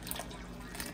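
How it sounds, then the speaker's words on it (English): Four ounces of Coca-Cola poured into a cooking pot for a mild barbecue-style sauce, a brief soft trickle and splash of liquid, faint and close, with no talk over it. "So I'm gonna add the 4 ounces of the Coca-Cola."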